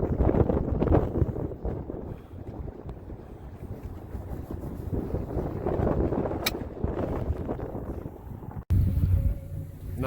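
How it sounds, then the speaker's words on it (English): Wind buffets a boat on Crystal Lake during a fishing outing, a steady loud rumble of gusts across the microphone and choppy water noise lasting throughout, briefly cutting out near the end. "It's windy."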